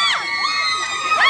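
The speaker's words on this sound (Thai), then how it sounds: "กรี๊ดได้นะครับส่งเสียงได้ด้านบนขอเสียงด้านบนหน่อย" High-pitched screams and shrieks from an audience at an indoor dome stage event at a market rise and fall in waves, loudest at the start and end of a brief burst.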